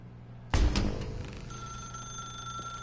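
A telephone in The Stanley Parable: Ultra Deluxe starts ringing abruptly and loudly, its bell ring continuing in repeated bursts with a steady electronic tone beneath, no voices.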